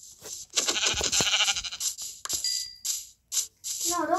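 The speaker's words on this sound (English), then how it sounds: "That's a bunch of sheep," Minecraft sheep bleat in quick succession near a village by a river, several wavering nasal calls packed close together and fairly loud, with short gaps and a final quivering bleat.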